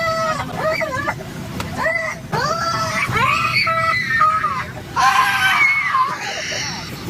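A child screams repeatedly in a cramped, echoing metal space, shrill rising-and-falling wails coming in several loud bursts over a noisy background.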